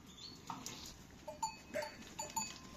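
Sheep on a village farm give faint, intermittent bleats, a few short calls spread across a quiet outdoor background.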